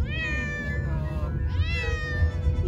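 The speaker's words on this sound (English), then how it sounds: "Yes, we have some amazing Neffy meows today." A cat at a veterinary clinic on vaccination day meows loudly and repeatedly in long, drawn-out wails, close to the microphone, with a low rumble of room noise underneath.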